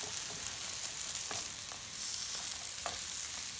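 A vegan sushi ingredient fries in a hot pan, giving a soft, steady sizzle with faint crackles and a brief louder burst, heard up close and fairly quiet without any talking.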